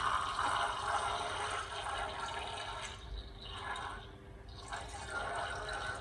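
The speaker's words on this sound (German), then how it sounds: "Dann füllen wir jetzt einmal die Becherchen hier auf." Liquid pours and splashes as small beakers are filled with pH calibration solution while a pH probe for an aquarium CO2 system is being calibrated. A continuous close trickle swells and fades over several seconds.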